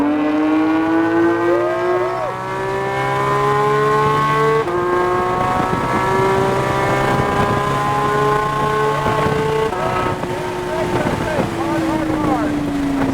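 A loud Porsche GT3 RS engine drones and climbs in pitch as the car accelerates on a road course, with wind buffeting the microphone and a voice talking over it.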